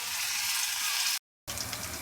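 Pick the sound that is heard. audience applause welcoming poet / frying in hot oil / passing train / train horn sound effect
frying in hot oil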